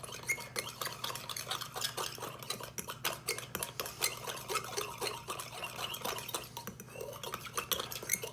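A spoon stirs horseradish into shrimp cocktail sauce in a bowl, producing a steady run of close, rhythmic scraping and soft clinks against the dish, with no talking.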